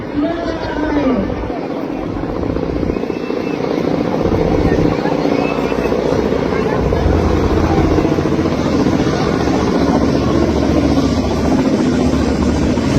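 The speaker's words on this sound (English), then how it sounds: "coming up right behind are three Kamo 31 helicopters" Three Kamov Ka-31 naval helicopters flying past over RK Beach in Vizag, a continuous loud rotor and engine drone that holds steady throughout, with a commentator and crowd chatter running underneath.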